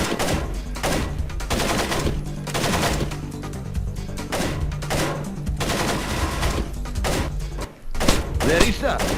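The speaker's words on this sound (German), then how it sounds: "jetzt werden wir wieder beschossen" Dense, continuous video-game gunfire in Splinter Cell aimed at the player, rapid automatic bursts and heavy thuds running nearly unbroken, loud and close, with a brief pause near the end before another burst; a voice speaks faintly beneath the shooting.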